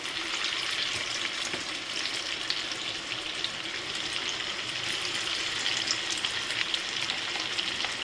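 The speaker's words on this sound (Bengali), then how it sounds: "আমি এবারে কোপ্তাগুলোকে ভেজে নিচ্ছি।" Papaya koftas frying in hot oil, a steady dense sizzle that holds level throughout, close and even with no talking.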